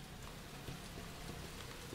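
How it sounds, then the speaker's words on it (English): Steady rain in the video game Resident Evil 2 patters continuously, a soft dense hiss with scattered drops, fairly faint and unbroken with no voices. "Can you hear the rain?"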